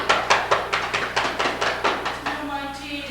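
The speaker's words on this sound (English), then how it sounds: "Hark, there's more knocking." A stage knocking effect in a 1989 theatre production of Macbeth: about a dozen sharp, evenly spaced raps on a door, loud and close, then a faint ringing tail.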